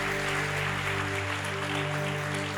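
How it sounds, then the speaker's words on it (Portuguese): A church congregation applauds in honour of members' families, a dense, continuous clapping wash over a steady low tonal hum, loud and unbroken for a few seconds. "Vamos dar um aplauso para esses."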